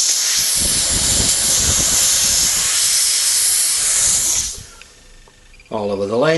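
A steamer for bending timber for a dulcimer hisses strongly and steadily up close, with some low gurgling underneath, before the hiss fades away and a voice speaks briefly at the end.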